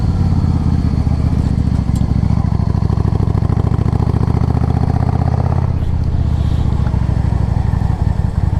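Engine of a 2005 Yamaha V Star 650 motorcycle on a test drive, a loud, steady, throbbing V-twin rumble heard from up close throughout, easing slightly near the end.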